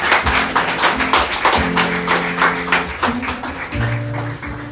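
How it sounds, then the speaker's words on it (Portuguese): A church congregation claps in praise during a worship service, dense rhythmic clapping running steadily throughout, with sustained musical tones from instruments or singing underneath. "Dando uma salva de palmas ao Senhor"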